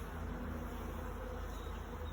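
Honey bees from a young start-up colony hum steadily during a hive inspection, a close, continuous drone with no pauses.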